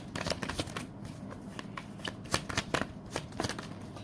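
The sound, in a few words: shuffling tarot cards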